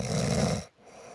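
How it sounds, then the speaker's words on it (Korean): A person snoring, one loud rough snore with heavy low rumble that cuts off abruptly, followed by a quiet breathy tail, close and alone without talk. "코골이 소리가 심각하면 남에게도 피해를 줍니다"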